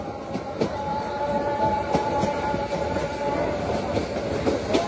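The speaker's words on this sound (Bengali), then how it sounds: "আমাদের ট্রেনটি এখন টঙ্গী জংশন রেল স্টেশন প্রবেশ করছে" The Mohanagar Godhuli Express on the Brahmanbaria to Dhaka run rolls into Tongi Junction station, heard from on board as a steady rumble with rhythmic wheel clicks over rail joints and a sustained metallic hum.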